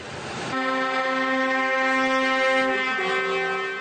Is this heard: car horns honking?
yes